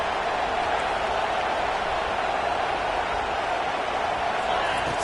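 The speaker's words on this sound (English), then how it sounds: "This crowd knows when to bring it." A large stadium crowd cheers in an NCAA 25 college football video game, making a steady, dense roar that holds at an even level throughout.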